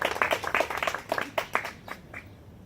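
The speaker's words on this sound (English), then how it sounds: "By applause, let's affirm this beautiful bride and handsome groom." Wedding guests at a garden ceremony break into applause for the bride and groom, a burst of clapping that is lively at first and then thins out and fades toward quiet.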